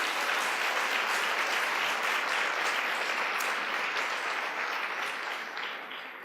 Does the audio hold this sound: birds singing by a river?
no